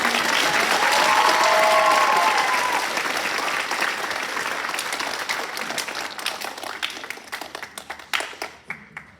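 Enthusiastic applause from a large audience at a high school choir award ceremony, sustained at first and then tapering off into sparse, uneven claps.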